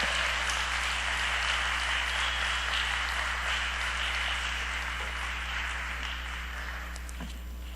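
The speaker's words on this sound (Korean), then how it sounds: "큰 소리로 박수로 우리 목자님 환영하겠습니다." A church congregation applauds to welcome the pastor before his sermon, a loud, sustained wash of clapping from a large crowd that slowly tapers toward the end.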